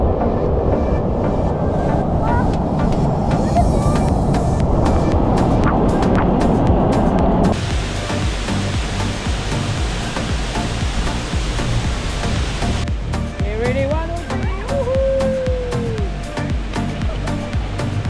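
Powerful waterfall at the second tier of Kawasan Falls in Cebu, Philippines, a loud continuous roar of close rushing water that shifts in tone partway through as the listener moves beneath the falls.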